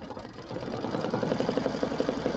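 An embroidery machine runs a tack-down line for appliqué shoes on a Halloween witch design, its rapid, even needle chatter loud and continuous throughout with no talk.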